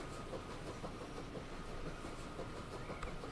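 A Norfolk and Western train runs in the Transport Fever game, a steady rumbling roll with faint rhythmic clickety-clack of wheels that stays constant and fairly close throughout.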